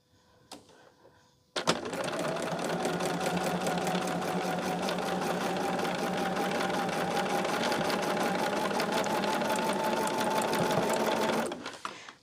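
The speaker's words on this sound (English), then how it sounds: "Now we're going to do the 1/8 of an inch reinforced stitch again on this one." A sewing machine runs a 1/8 inch reinforced stitch along a charm tote seam, a steady rapid clatter of needle strokes for about ten seconds, starting and stopping abruptly, close and alone.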